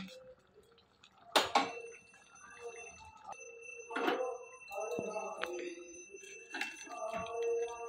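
A metal cooking pot of small fish simmered with whole tomatoes and onions is lifted off a stove, giving a few sharp clinks and scrapes of metal against metal, with a voice heard now and then.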